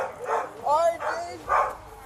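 Guard dogs bark in a building during a police arrest, three loud, fairly close bursts spaced across a couple of seconds, with an officer's voice talking over them.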